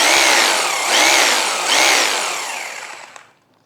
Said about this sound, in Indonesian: Ini ternyata saya bikin mode hammer di mode bobok.